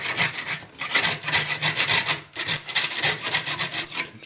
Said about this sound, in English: The nice thing about Japanese saws is that they're pull saws, so they there's very little pressure needed to actually to make a saw cut.